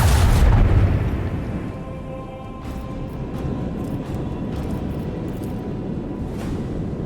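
Weapons fire and explosions in Warhammer 40k: Rogue Trader, opening with a deep heavy boom that settles into a sustained low rumble, with scattered fainter bursts and pops following.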